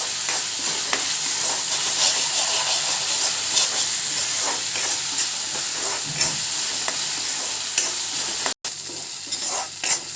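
Ginger, garlic and onion paste stir-fried in a little oil in a pan, a steady close sizzle with repeated scraping stirs and no voices.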